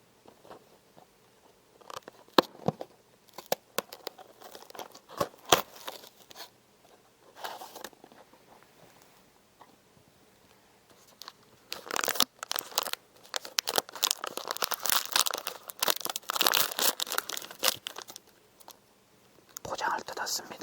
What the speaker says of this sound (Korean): 포장을 뜯었습니다.